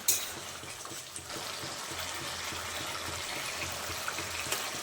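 Egg curry bubbling on a gas stove, a steady close sizzle and soft bubbling hiss that runs unbroken and fairly quiet, with no talking.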